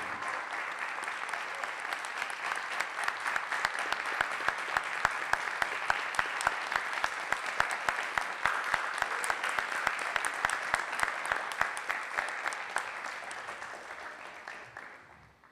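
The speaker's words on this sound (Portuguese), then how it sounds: "Uma grande salva de palmas em homenagem a este grande nome da música" A large audience claps steadily and enthusiastically for a long stretch, the applause fading out at the end.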